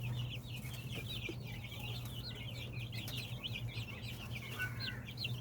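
Hens clucking and chattering in a chicken coop area, a steady busy stream of bird calls over a low constant hum, with no talk.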